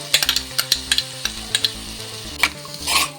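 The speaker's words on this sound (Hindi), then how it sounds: "अब मैं इसको अच्छे से मिक्स करूंगी।" Chopped carrots and beans, with capsicum, are stirred in a frying pan: a quick run of sharp spoon scrapes and clinks over a soft sizzle, ending in a louder scraping sweep, with no talk.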